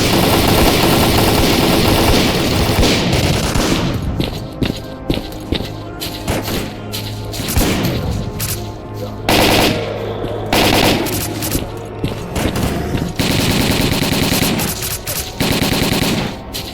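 Heavy gunfire from the S.T.A.L.K.E.R.: Call of Pripyat video game, loud sustained automatic bursts and rapid shots, mixed with engine-like rumble and thuds, continuous and intense with no speech.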